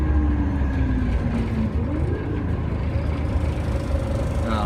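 Ex-Sydney Volvo B10 bus with Ansair body, recorded from onboard in Newcastle: a loud, steady diesel engine rumble with road noise and gear-shifting pitch changes, no talk.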